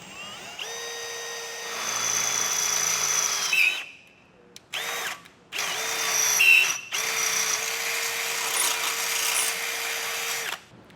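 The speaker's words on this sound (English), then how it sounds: "use a smaller drill bit and step it up from there to make it a little easier drilling this hole" A power drill runs steadily at close range, whining with a bright motor tone, pausing briefly a few times, drilling a hole to install a Blue Ox base plate on a 2023 Jeep Gladiator.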